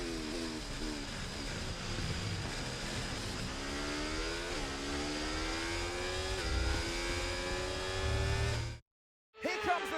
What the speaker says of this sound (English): All eyes on the car approaching.